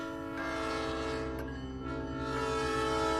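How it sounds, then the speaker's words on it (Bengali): An approaching train sounds a long, steady horn that holds for the full few seconds, loud and continuous, with a faint rumble of rail traffic beneath it and no voices. "আপনার মেবি ট্রেন চলে আসছে"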